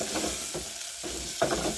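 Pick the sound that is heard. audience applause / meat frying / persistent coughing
meat frying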